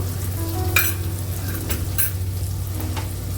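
Uggani, a puffed-rice dish with salt and turmeric, sizzles and fries in a pan, with soft scraping stirs and short bursts of crackle over a low steady hiss, no one talking.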